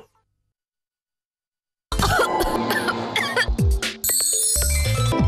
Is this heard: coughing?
yes